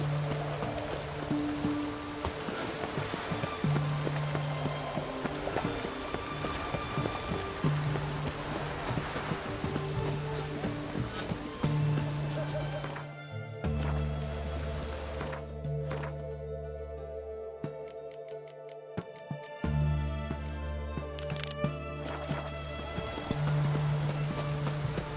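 Steady rain from a witches' spell in a video game, a continuous hiss of falling drops under droning game music, moderately faint throughout.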